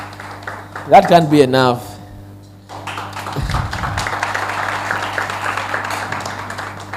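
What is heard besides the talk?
audience applauding for the Bill and Melinda Gates Foundation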